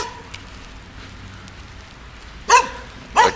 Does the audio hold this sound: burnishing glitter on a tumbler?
no